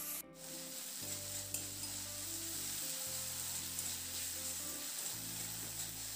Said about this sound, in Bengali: এবার এই মশলাটাকে মিনিট 2 জন্য নাড়াচাড়া করে খুব ভালো করে এটাকে কষিয়ে নেব